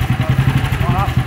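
A 1955 BSA B31 350cc single-cylinder motorcycle engine ticking over at a slow idle, with a steady, even low thump close by while a person talks over it.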